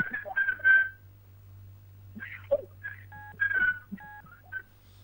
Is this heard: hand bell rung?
no